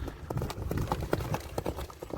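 A horse running, quick rhythmic clip-clop of hooves striking the ground at a fast steady pace, moderately close and clear.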